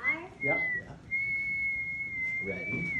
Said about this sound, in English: I whistle loud now